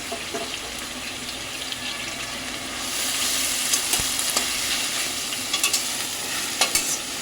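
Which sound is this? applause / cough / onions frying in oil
onions frying in oil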